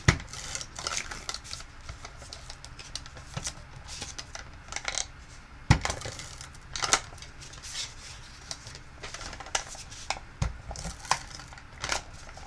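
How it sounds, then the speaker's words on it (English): An ATG adhesive tape gun used while making a card, giving close, scattered clicks, snaps and dry rustles at an irregular pace over a quiet background, with no talking. "I'm using my A.T.G gun."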